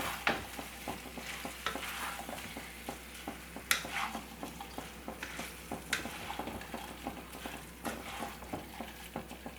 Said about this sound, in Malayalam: നമുക്ക് നല്ലപോലെ ഒന്ന് മിക്സ് ചെയ്ത് കൊടുക്കാം